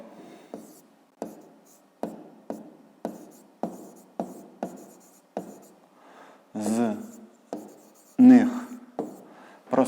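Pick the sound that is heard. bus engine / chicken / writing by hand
writing by hand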